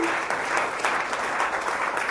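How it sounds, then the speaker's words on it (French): Church youth service audience applauding young people, a full, even roar of many hands clapping close by with no break. "est-ce qu'on applaudit ces jeunes?"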